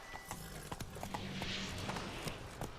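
Horse hooves clip-clop at a steady walking rhythm in The Witcher 3: Wild Hunt, fairly quiet, set against soft ambient game sound with no talk over it.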